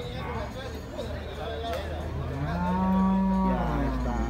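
A dairy cow at a cattle market moos loudly and steadily near the end, a long low drawn-out call, while a busy crowd murmurs and people talk nearby throughout.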